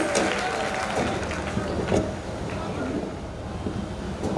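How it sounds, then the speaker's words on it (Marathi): Loud, sustained applause from the audience at a large community gathering of the Ladshakhiya Vani Samaj in Shirode, a dense wash of clapping that fills the whole stretch with a few brief swells. "एकदा जोरात टाळ्या."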